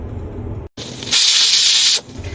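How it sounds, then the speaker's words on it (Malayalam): A pressure cooker whistle lets off steam while a vegetable soup cooks on a stove. It gives one loud, steady hiss lasting about a second, then cuts off. "അപ്പൊ ഇതാ 6ാമത്തെ വിസിലും വന്നിട്ടുണ്ട്."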